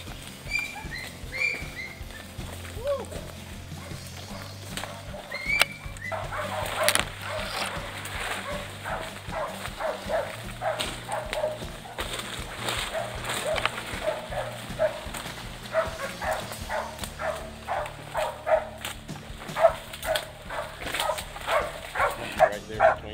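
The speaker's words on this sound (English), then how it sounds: "the dogs started barking" Hunting dogs on a Florida boar hunt bark in scattered bursts, some near and some farther off, over rustling outdoor noise and movement through brush.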